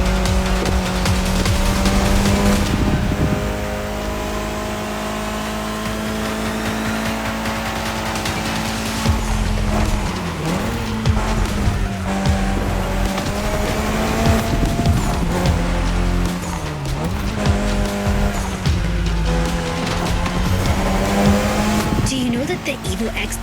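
A Mitsubishi Evo X race car in The Crew Motorfest video game drives continuously with a steady, loud engine drone, rising and dipping through gear changes and brief tire squeals, with talk over it.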